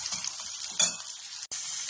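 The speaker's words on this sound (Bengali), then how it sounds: "পেঁয়াজটা দিয়ে আমি অল্প আঁচে ভালো করে ভেজে নেব।" Chopped onion frying over low heat in oil left from frying fish, a steady close sizzle with a brief stirring scrape near the middle and a momentary break just before the end.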